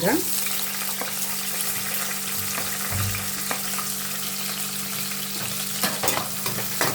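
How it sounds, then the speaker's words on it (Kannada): Onions fry in hot oil for a mixed vegetable palya, a loud, steady close-up sizzle with a low background hum and occasional stirring clicks, and no voices. "ಆನಿಯನ್ ಸ್ವಲ್ಪ ಫ್ರೈ ಮಾಡ್ಕೊಳ್ಳೋಣ."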